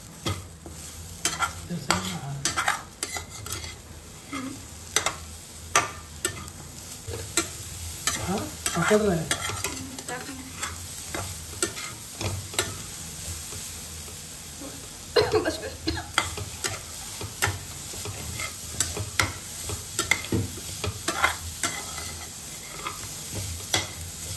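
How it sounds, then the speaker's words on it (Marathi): Food being stirred and mixed round in a pan for a tiranga-themed dish, with repeated scraping strokes and soft sizzling continuing throughout, close and moderately loud. "आपण याच्यामध्ये गोल मिक्स करणार आहोत"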